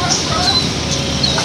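Chickens cluck and chatter steadily at close range in a cage on a goat farm, with a few soft higher calls over a busy, continuous background of birds.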